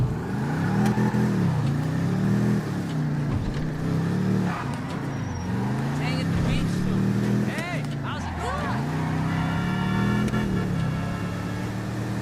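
A drag-style car with fat tires and a wheelie bar in GTA 5 revs repeatedly, its engine rising and falling in pitch through several gear-like sweeps, loud and close, while someone talks over it.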